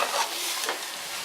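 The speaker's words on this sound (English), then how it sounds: "nicely fry this till the water gets evaporated" Masala spices frying in a pan for a village-style field gram rice dish, a steady hiss and sizzle with a brief stirring scrape, close up.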